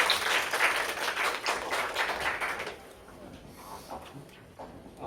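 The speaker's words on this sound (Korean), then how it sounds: "박수로 좀 맞이해주세요" A conference audience at a housing welfare session claps to welcome a speaker, a dense round of applause that fades out after a few seconds into quieter room noise with some voices.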